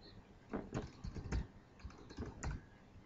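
Keys clatter on a computer keyboard in short quick bursts and single taps, fairly close and quiet, while a username and password are entered with pauses between keystrokes.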